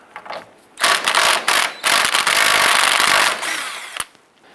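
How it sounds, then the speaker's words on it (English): A 21 mm socket on a ratchet clicks rapidly and loudly while loosening the outer tie rod nut on a 2002-2007 Jeep Liberty, in several continuous bursts close by. "Using a 21 millimeter socket, go ahead and remove the nut off the outer tie rod."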